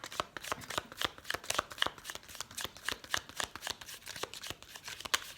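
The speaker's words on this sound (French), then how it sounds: "Alors on prend une carte." A deck of oracle cards is shuffled up close, producing quiet, rapid riffling flicks and soft slaps in a fairly steady rhythm, with no voice over them.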